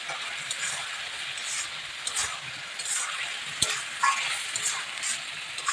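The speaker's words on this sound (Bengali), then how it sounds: "এটা ভালো করে একটু আলুর সাথে মশলাটা কষিয়ে নিচ্ছি" Spice paste sizzles and fries with fried potatoes, cashews and raisins for a vegetarian quinoa biryani, a steady close crackle with a few brief stirring clicks and no talk.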